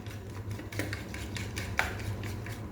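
A spoon scrapes and clinks against a bowl while stirring a batter of maida flour, salt and water, giving soft repeated swishes with sharper metallic taps, close and moderately quiet.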